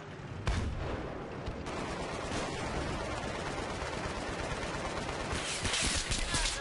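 Gunfire in Battlefield 3 Rush mode, with continuous rapid shots and distant fusillades forming a dense, steady battle din, and no talk over it.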